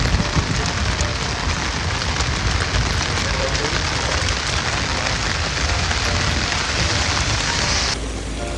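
Steady rain pours in Singapore, a dense, loud, even hiss that fills the whole stretch before shifting slightly in tone near the end.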